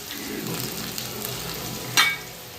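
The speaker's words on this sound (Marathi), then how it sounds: "मस्त असा छान फ्राय होईपर्यंत आपल्याला कांदा गुलाबी कलर येईपर्यंत फ्राय करून घ्यायचा आहे" Onions fry in a pan until pink, giving a close, steady sizzle and crackle with a sharp spatter burst near the end, no voices.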